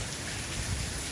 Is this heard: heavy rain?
yes